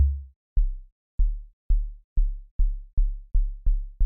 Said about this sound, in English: It sounds more like a kick.